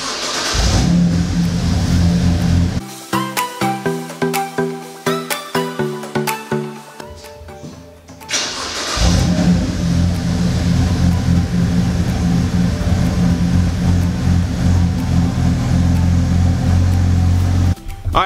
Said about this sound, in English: put the keys and start the car and see how it looks